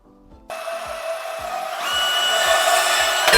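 A power tool starts with a sudden whir and cuts aluminum EMT conduit. Its loud, steady whine rises in pitch partway through and keeps running to the end, with no talking.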